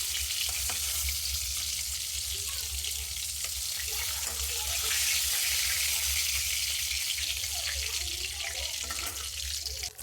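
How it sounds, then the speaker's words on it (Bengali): Gurjali fish frying in oil in a pan, a loud, continuous hiss and crackle of sizzling that holds steady throughout, close up, with faint clinks of a utensil now and then. "এখন মাছগুলো সুন্দর ভাজা হয়ে গেছে, দেখতেই পাচ্ছ লাল লাল করে"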